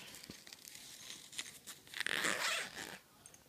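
A zipper rasps open close by, a short bright zip after a few soft handling rustles.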